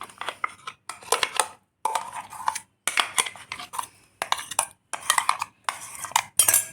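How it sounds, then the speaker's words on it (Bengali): Pea paste being mixed into semolina in a bowl with a spoon: bursts of clinking, scraping strokes separated by short pauses, close up and with no one talking. "এবারে সুজির মধ্যে মিশিয়ে দেব।"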